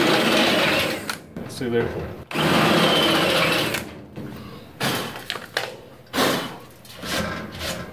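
Drill bit cutting through the sheet-metal rear tub of a 1966 Ford Bronco, loud whirring bursts that start and stop several times up close, with someone talking between them.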